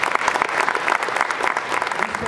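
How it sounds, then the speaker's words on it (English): An audience at a sixth grade holiday band concert applauds the young percussionists, with close, crisp individual claps forming a lively, irregular patter. "Can we get a round of applause for them as well?"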